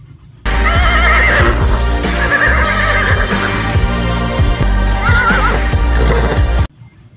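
A toy horse plays a loud recorded whinny, with several neighs and clip-clopping hooves over about six seconds, starting and stopping abruptly, with no talking.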